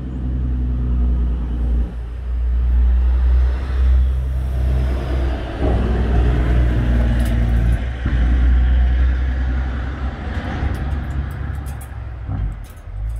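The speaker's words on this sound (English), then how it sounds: "Big trucks hauling dirt all day, aren't they?" Heavy dirt-hauling trucks rumble past nearby, a deep low engine drone swelling and fading in waves, loud and continuous, with no voices.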